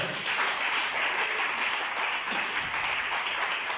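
A church congregation applauding the Lord, a dense, steady wash of many hands clapping that fills the room evenly from start to finish, with no distinct voices.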